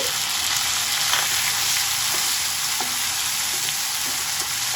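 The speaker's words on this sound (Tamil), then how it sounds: "நல்லா சாஃப்ட் ஆகிற வரைக்கும் நல்லா வதக்கிக்கோங்க" Steady sizzling of onions and tomatoes frying in a hot pan, with occasional soft stirring scrapes and no voices.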